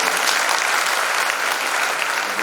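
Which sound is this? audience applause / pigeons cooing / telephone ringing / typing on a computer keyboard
audience applause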